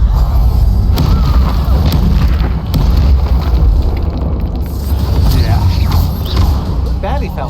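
Bombarda spell blast in the Hogwarts Legacy video game, a booming explosion amid a busy spell battle with crackling magic effects, loud throughout and mixed with game voices.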